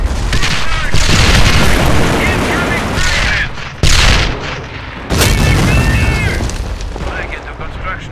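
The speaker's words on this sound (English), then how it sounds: "The enemy will hide in fear at the sound of butterfly bombs falling overhead." Bombs explode in the Company of Heroes Europe at War strategy game, with loud booming blasts and battle noise running continuously, broken by sharp new detonations, under game voice lines.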